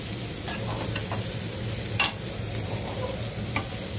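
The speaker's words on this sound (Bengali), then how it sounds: "তার আগে আরেকটু নাড়াতে হবে" Pumpkin and vegetable curry being stirred in a pan, a steady soft scraping and sizzle with a few louder utensil knocks against the pan, close and continuous, with no talking.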